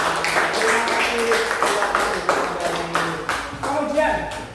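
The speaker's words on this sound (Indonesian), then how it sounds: "tepuk tangan buat kelompok al-wahid, kelompok 3. Tepuk tangan semuanya" A classroom of students claps steadily for a presenting student group, a continuous patter of hands close by with voices mixed in.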